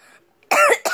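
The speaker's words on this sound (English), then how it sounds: "Cough, cough." A single short cough bursts out loudly and close, followed by a brief second cough, after a near-silent pause.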